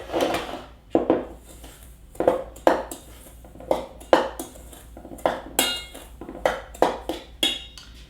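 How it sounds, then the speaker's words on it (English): A spoon scrapes and clinks repeatedly against a bowl while stirring hazelnut cake batter, in irregular close-up strokes with bright metallic knocks between softer scraping sounds. "I'm gonna go get a spoon. Stir this up."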